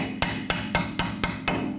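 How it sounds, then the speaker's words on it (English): Six evenly spaced metallic hammer taps ring out sharply on a rear sway bar link bolt of a Toyota Camry, close and crisp, in a steady rhythm. "I'm going to go ahead and use my hammer"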